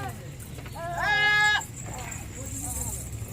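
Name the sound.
goat bleating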